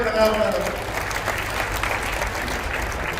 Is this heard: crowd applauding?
yes